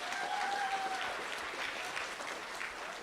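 Applause from a school audience welcoming a guest, a moderate, even patter of many hands clapping, fairly distant and soft, holding steady with a brief whistle-like tone near the start.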